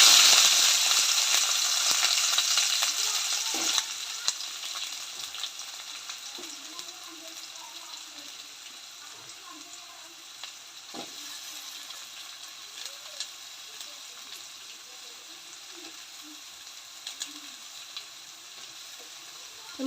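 Onions frying in hot coconut oil, a steady broad sizzle that is loudest at first and eases slightly, with occasional scrapes and knocks of stirring throughout.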